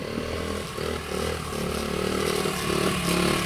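A 1973 Honda SL125 classic play bike ridden over rough ground, its small engine buzzing steadily with clattering and scraping mixed in, close and continuous.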